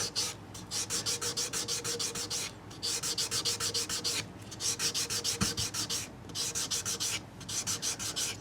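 Abrasive pad swiped back and forth over the frets of a 1997 Gibson Les Paul guitar, giving rhythmic, close, raspy rubbing strokes in quick bursts with short pauses between sets.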